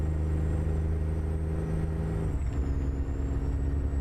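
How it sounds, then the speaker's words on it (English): A Freightliner Classic XL truck in a trucking video game, its engine a steady low rumble with a harsh gear-grinding rasp and a shift in pitch partway through, loud and continuous with no talk. "Grinding up that gearbox."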